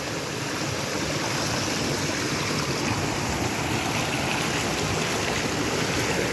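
A rainy-season forest stream pours over rocks, a loud, steady rush of flowing water that fills the scene without a break and with no voices.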